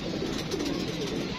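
Pet pigeons, a lakha breed, cooing outdoors where they are kept, a soft continuous murmur of low coos with light background noise, fairly near and steady throughout.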